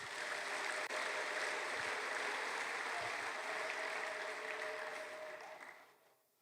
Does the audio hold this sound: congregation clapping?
yes